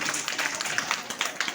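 A crowd at a meeting bursts into loud, sustained clapping for everyone present, a dense, steady patter of many hands with no pauses.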